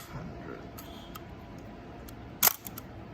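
A Zenit ET film camera body fires its shutter once, a sharp mechanical snap standing out near the end against quiet room tone, preceded by faint small clicks of handling.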